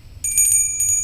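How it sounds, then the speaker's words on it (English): A small fairy bell used in a puppet show rings in a few quick bright tinkling strokes, clear and close, with no voices. "but I love just a little fairy bell in my puppet shows"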